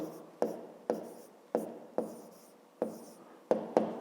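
A pen or pencil writes numbers on paper during a fifth-grade maths exercise, about eight quick scratchy strokes in an irregular rhythm, close and clear with no talking.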